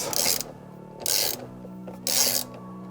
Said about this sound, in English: then a little bit with the ratchet